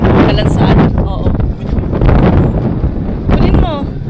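Strong wind buffets the microphone at the Jeddah fish market in Saudi Arabia, loud gusty rumble throughout, with people talking over it.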